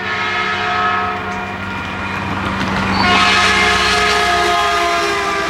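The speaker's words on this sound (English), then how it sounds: "every time the train passes by, they blow the horn, and you have this signal" A diesel train rolls past a crossing, its engine rumble building as it nears, then a loud sustained horn blast sounds close by over the steady roar of the passing cars.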